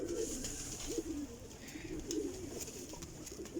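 A pigeon kept for flying coos in low, rolling phrases that repeat close by, with soft background noise around it.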